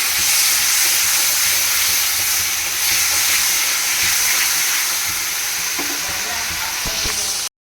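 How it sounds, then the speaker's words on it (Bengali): A loud, steady sizzling hiss as a little water is added to turmeric and chili powder frying in a pan, with a few clinks and stirring sounds, ending abruptly. "হলুদ লঙ্কা গুঁড়ো দিয়ে এবার অল্প একটু জল দেবো"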